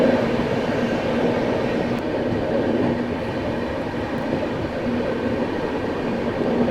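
Shiv Ganga Express train rumbling steadily at a station platform, a continuous near, loud rolling roar of rail cars with no talk.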